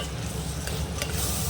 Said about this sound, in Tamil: நம்ம கத்திரிக்காவை ஒரு கிளறி விட்டுக்கலாம்.